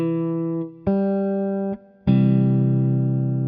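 Three bright, sustained guitar chords forming a major triad ring out one after another, each struck cleanly and left to sustain before the next, with a short gap before the last.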